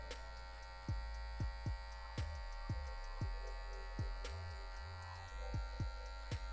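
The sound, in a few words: electric hair clipper trimming a fade haircut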